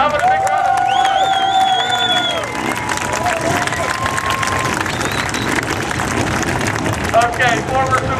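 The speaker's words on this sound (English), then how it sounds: "Bentley Warren, how about a big round of applause?" Crowd applause and cheering at a motorsports event, a broad wash of clapping that swells loudly at first and carries on, mixed with an announcer's amplified voice and whistles.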